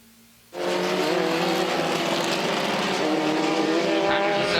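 Honda S2000 race car in an SVRA race at the Mid-Ohio circuit, its engine bursting in suddenly and loudly as it passes close by, then a sustained high-revving roar with faint tire noise.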